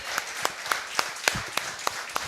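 A church congregation applauds in rhythm, a background wash of clapping punctuated by loud, evenly spaced unison claps, about one every quarter second.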